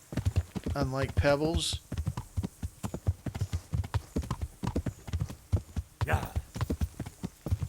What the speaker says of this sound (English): So we're going to ride back to Passau. Good thing my horse is very fast.